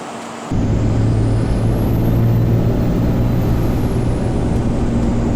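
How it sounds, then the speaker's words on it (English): A 2008 Ford F-350 dually pickup with a swapped-in common-rail Cummins diesel pulls hard under acceleration, a loud, steady low engine drone with a rising whine. It roars continuously and close, without talk. "It's just crazy that a big truck can move like this."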